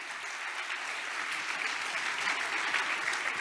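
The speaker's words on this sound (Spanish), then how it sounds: "Denle un buen aplauso al Señor, todos los valientes que hay aquí." Church congregation applauding steadily for the whole stretch, a dense, sustained wash of clapping from many hands at a moderate level, with a faint murmur of voices underneath.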